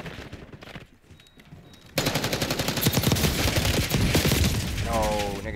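Rapid gunfire in a shooter video game, coming from behind the player, starting softer and then becoming loud, dense automatic bursts that continue steadily, with faint talk underneath.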